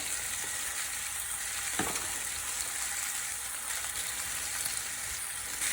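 A porterhouse or T-bone steak sizzles in a pan with butter and bacon grease, giving a continuous crackling fry with a brief clank partway through and no talking.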